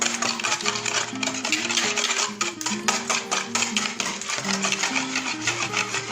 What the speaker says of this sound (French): On est en train de fouetter les œufs.